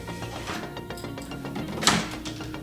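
Metal parts of a Stern Mandalorian pinball machine click and rattle as the shooter rod is pulled out after its C-clip and washer come off, a close run of small ratcheting clicks with one sharper tick.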